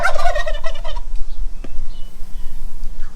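Poultry break into a loud, rapid gobbling chatter for about a second on a farm by a rice field, then fall quiet apart from a single soft knock.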